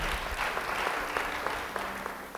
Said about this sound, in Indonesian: Sekali lagi beri tepuk tangan bagi dia.